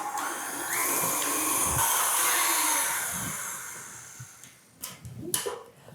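Electric stand mixer beating cake batter of sugar and vanilla bean paste for a Black Forest cake, a steady close whirring drone for about four seconds that then fades, followed by a few brief knocks and clatters.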